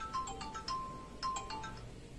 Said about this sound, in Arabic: تليفونك بيرن، شوفها يمكن عايزاك